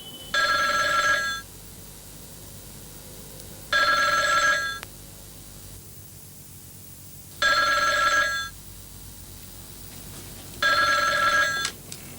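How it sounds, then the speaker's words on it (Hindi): A telephone bell rings in four evenly spaced bursts, each about a second long, with a bright, loud trill and quiet gaps between them. "ये तो फोन की घंटी है।"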